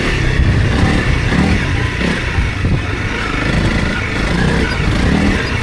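A 300 Rally dirt bike engine revving hard while riding through whoops, a loud, continuous, gritty roar that stays close and strong throughout.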